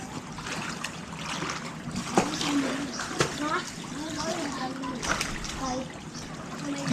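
Children splashing while bathing in high-tide flood sea water, irregular splashes and sloshing water, with voices and children's shouts mixed throughout.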